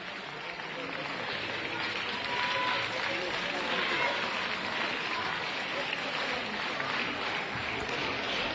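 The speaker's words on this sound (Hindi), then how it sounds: "तालियां आपकी, तालियों में कंजूसी ना करें।" Dense, steady applause from an audience at a cultural programme during the International Gita Festival in Sirsa, a continuous wash of clapping lasting throughout with no gaps.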